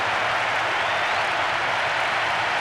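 Steady roar of crowd applause from the football game Winning Eleven on PS2, a loud, continuous wash of clapping and cheering that holds evenly throughout with no talk over it.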